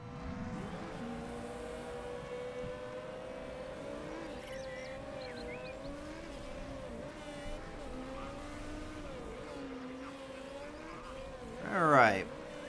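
Race cars sent out onto the track in the Motorsport Manager game, engines droning steadily with shifting pitch under continuous commentary, a brief louder whoosh or tire squeal near the end.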